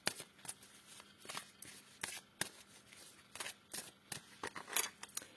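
Tarot cards being cut and shuffled, a quiet series of crisp flicks and papery riffles in an irregular rhythm, close by with no talking.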